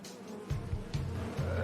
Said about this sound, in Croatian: Cvijeće je privuklo puno gladnih pčela.